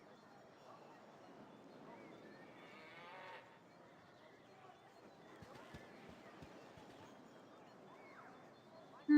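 A cow mooing in the video game Baldur's Gate: a low, drawn-out bovine call rising and fading over a quiet game soundscape, with a person talking softly at times.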